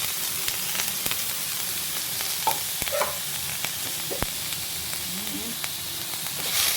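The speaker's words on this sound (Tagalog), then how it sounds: "Ihuhulog natin yung aking maize na sibuyas, bawang at tsaka luya" Chopped onion, garlic and ginger sizzle in hot oil in a non-stick wok, a quiet steady hiss with occasional soft clicks and scrapes from stirring, no talking.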